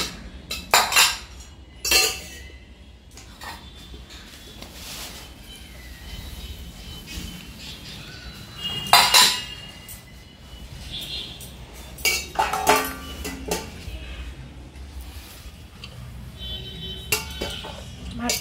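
Cutlery and dishes clink in irregular bursts while rice is served at home, sharp metallic chinks scattered over a quiet room with soft handling noises between.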